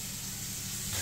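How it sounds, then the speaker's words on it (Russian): Meat frying in a pan on the stove gives off a steady, soft sizzle that continues without a break and swells slightly toward the end, with no talking. "Пока жарится мясо"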